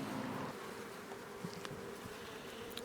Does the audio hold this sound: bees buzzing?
yes